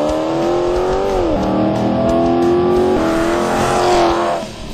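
The 6.1-liter Hemi V8 of a Dodge Challenger SRT8 with a Corsa performance exhaust pulls hard, its deep engine note climbing through the revs, briefly dropping at a shift, then rising again loud and close before easing off.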